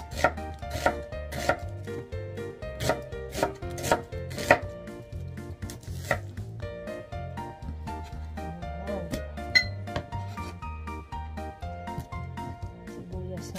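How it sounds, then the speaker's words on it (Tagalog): A knife repeatedly slicing through a white onion on a cutting board in a home kitchen, with steady close rhythmic chops, a brief pause midway, then more cuts. "Ayan, sibuyas dito sa Japan, kulay puti siya. Slice natin, guys."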